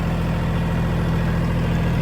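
A Mahindra 1635 tractor runs steadily at idle beside a pecan orchard before bush hogging, its diesel engine giving a constant, loud, low throbbing drone with no voices over it.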